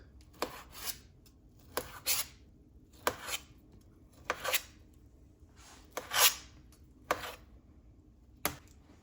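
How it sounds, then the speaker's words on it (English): A knife chops guanciale into strips and then small cubes on a board, giving a string of sharp, distinct cuts at an uneven pace, close and alone with no talking. "And now I need to cut these into strips first, and then these strips into small cubes."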